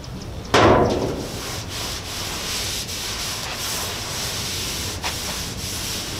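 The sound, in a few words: rubbing oil-soaked rag onto rusty metal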